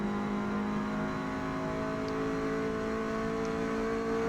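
Alpine A110 engine in Forza Motorsport, A class at Virginia Raceway, holding a steady drone with tonal whine on a long straight, loud and continuous for the whole stretch with no talk.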